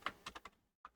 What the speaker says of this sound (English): Typing's hard.